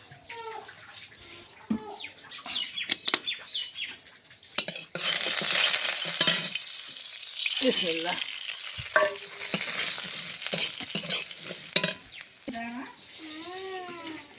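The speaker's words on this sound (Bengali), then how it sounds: "সেমাইটা ভেজে নিই।" Vermicelli fries in white oil in a wok: a loud, dense sizzle and crackle runs through most of the stretch, with someone speaking briefly before and after the frying noise.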